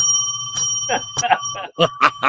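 A bicycle-style bell rings in sharp, bright repeated dings, with several separate strikes spaced unevenly across the short stretch, loud and close.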